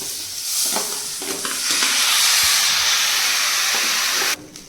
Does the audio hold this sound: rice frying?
yes